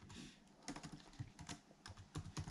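Quick, uneven keystrokes on a computer keyboard, close and fairly quiet, clicking in short bursts with brief pauses while filling in a form, and no voices.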